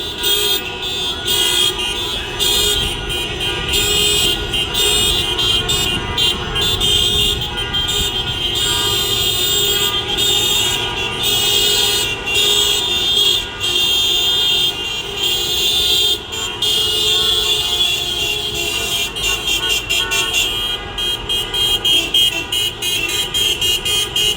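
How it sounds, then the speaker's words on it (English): Protest vehicles circle City Hall in Philadelphia, a steady mix of car horns tooting and honking over continuous traffic noise, with no talk. "the vehicles have been driving around City Hall, honking their horns"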